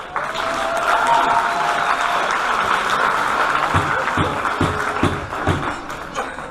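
A crowd applauds steadily at a celebrity lightsaber fencing event, a dense wash of clapping with some cheering, while a few louder thumps land in the second half.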